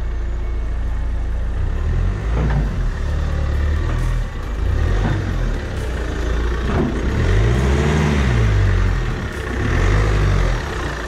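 A car engine with a leaking exhaust braid runs and idles, a low rumbling drone that rises and falls in a few slow swells, close and steady, with no talk.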